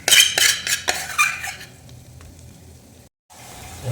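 Potatoes fry in a little oil in a pan for potato 65 fry masala, opening with a burst of clattering utensil scrapes and knocks against the pan, then settling into a soft, quiet sizzle.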